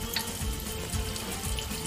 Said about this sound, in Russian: я залью это вот так вот все водой